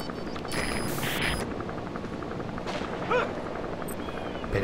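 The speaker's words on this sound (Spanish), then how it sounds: "Apuntando al helicóptero." Helicopter in the video game Metal Gear Solid V: The Phantom Pain, a low rotor drone under game noise with sharp bursts that sound like gunfire, moderately loud throughout.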